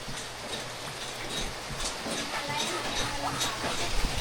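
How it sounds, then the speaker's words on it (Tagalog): Steady rain falls around a bahay kubo (nipa hut) where eggplant is being grilled, a dense, continuous patter with scattered sharper drops throughout, fairly close and even, with faint voices in the background. "Ayan na, nag-uulan."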